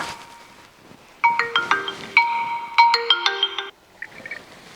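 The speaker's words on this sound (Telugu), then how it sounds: "ఎవరు ఫోన్ చేసేది అవ్వ" A mobile phone ringtone plays a bright, repeating electronic melody in quick bursts, loud and close in a quiet room, then stops abruptly.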